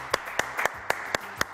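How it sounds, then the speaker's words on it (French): An audience claps in slow unison: about six sharp, separate claps at an even rhythm, moderately loud and close. "je vous demande d'applaudir très très fort"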